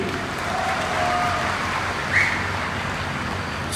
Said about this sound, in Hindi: एक बार जोरदार तालियां अपने खुद के लिए